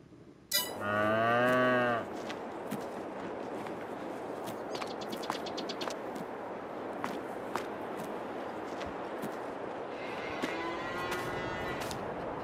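Cattle moo on a farm in Farming Simulator 22, one long low moo near the start and another later, over a steady bed of farm ambience with faint clicks and bird calls.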